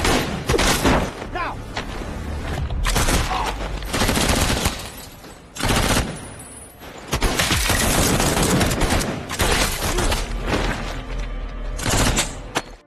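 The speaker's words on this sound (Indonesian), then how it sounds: "terjadilah baku tembak" Gunfire in a shootout with police surrounding a bank, loud bursts of rapid shots and booms in several volleys separated by short lulls.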